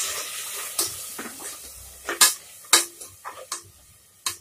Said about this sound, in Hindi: और इसको जब तक कि तेल नहीं आ जाता ऊपर, जब तक हम भुनेंगे